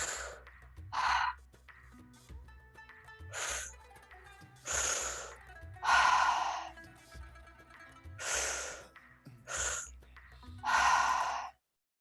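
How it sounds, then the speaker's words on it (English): Slow, deep breaths in a guided meditation and breathwork session, each long airy exhale pushed out through the mouth. About eight drawn-out breaths come close and clear at a steady, unhurried pace over soft background music. "Filling up your belly with air, filling up your lungs,"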